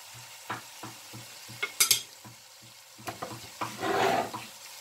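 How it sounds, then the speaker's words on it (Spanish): A spoon stirs paprika and tomato paste in a frying pot, giving a run of soft rhythmic scrapes and knocks with brief clatters and a short sizzling burst near the end. "Vamos a revolver."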